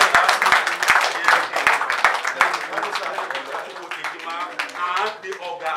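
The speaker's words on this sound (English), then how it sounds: "A round of applause for him." Audience at a Lagos gathering of the Igala community clapping for a philanthropist, with sharp regular claps early on and a crowd of hand claps mixed with voices and chatter throughout.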